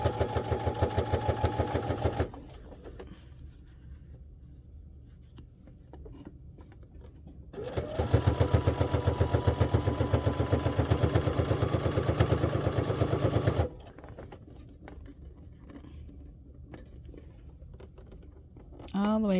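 A sewing machine runs top stitching with a long stitch length along a zipper pouch, giving a fast, steady mechanical whir in two bursts, one short and one longer, with quieter pauses around them.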